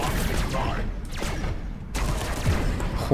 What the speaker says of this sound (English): the plasma, the heavy plasma cannon. It is, it is very powerful, very inaccurate